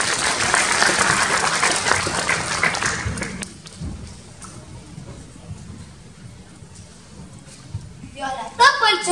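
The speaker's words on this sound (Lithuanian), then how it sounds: "Pasitikite plojimais." A concert audience claps loudly to welcome a second-grade schoolboy to the stage at a festive Mother's Day event, the applause fading after a few seconds into quieter room noise before a voice begins speaking.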